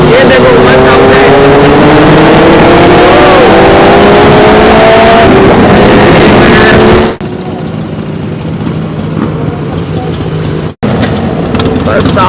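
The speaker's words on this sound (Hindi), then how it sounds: "बहुत प्यारी साउंड है सारे बाइकों की।" Superbikes on a Sunday group ride from Indore to Dhar rev loudly with rising engine whines, then the roar drops sharply into quieter road noise and wind as they pass.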